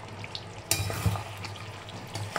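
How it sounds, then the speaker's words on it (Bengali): Mutton cooking down in a pan with spices, heard close. The frying crackle is steady and the stirring brings scraping and clattering bursts. "এইভাবে ঢাকা দিয়ে দিয়ে মাটনটাকে কষাবো।"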